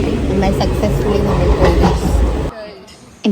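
Inside a moving passenger train bound for Kannur: a loud, continuous rumble and rattle of the carriage with voices talking over it, then the noise cuts to near quiet for the final second with one brief knock.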